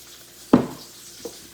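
Potatoes and Brussels sprouts hit hot oil in a pan, giving one sharp sizzling burst that fades quickly, then a second, softer stir or sizzle a moment later.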